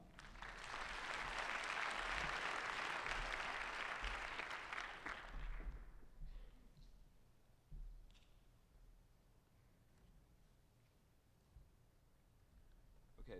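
An audience at a research integrity conference session claps to welcome a speaker, a dense burst of applause lasting about five seconds before fading into scattered claps and room noise.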